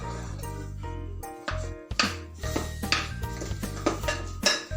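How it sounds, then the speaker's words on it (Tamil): Metal pots and utensils clink and clatter in a home kitchen while pongal is tempered in oil in a kadai on the stove; sharp, close knocks and scrapes arrive in an irregular series over a low steady hum. "எங்கள் வீட்டில் பொங்கல் தாளிக்க போகிறோம்."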